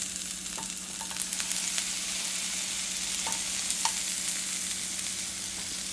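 Apples searing in olive oil in a hot pan, giving a steady, bright, dense sizzle with a few small pops and crackles, close and continuous with no talking.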